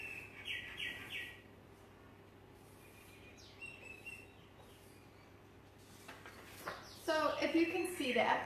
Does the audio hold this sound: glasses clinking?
no